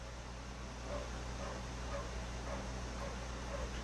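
A dog whimpers and lets out small yips in a room, faint and repeated in short bursts over a steady air-conditioning hum.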